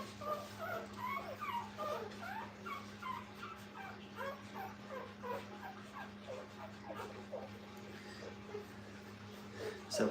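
Several young puppies whimper and squeal in a kennel while they nurse, a steady chorus of thin, high cries over a constant low hum, with faint talk in the background.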